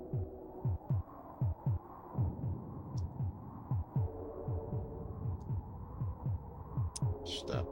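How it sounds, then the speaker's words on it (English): A slow, steady heartbeat from the SNES game Populous, soft rhythmic low thumps repeating about every third of a second over a faint hum, with a few brief high blips. "so enjoy the heartbeat"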